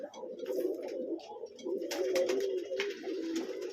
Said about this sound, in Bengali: ওই একটা কবুতর দেখাই আপনারে